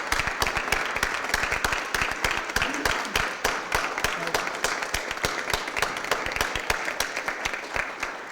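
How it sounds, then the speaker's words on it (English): At a St. Louis Board of Aldermen meeting, people stand and clap for an honoree in dense, lively, sustained applause with brisk individual claps standing out close by. "let's stand and give her a round of applause and thank her"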